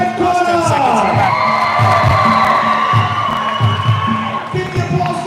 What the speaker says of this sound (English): Keep the applause going for the blue corner.